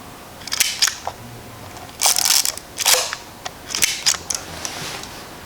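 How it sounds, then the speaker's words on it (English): A Yashica Electro 35 GT rangefinder fires its shutter several times, giving soft, quiet clicks in an irregular rhythm, each a short crisp snap, close to the camera with no talking. "I was expecting, you know, like a really loud shutter."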